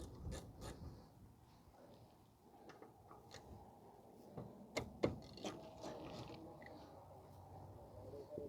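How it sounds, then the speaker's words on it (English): A hand ratchet loosens a 12 mm brake caliper pin on a rear brake, giving faint, close clicking pawl ticks in short uneven bursts with a few sharper metallic clinks, in a quiet workshop. "now we're just going to remove the caliper pin. It's a 12 millimeter."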